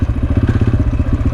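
A Yamaha TTR dirtbike engine chugs in a low, steady, rapid pulsing at light throttle, close and fairly loud with no talking.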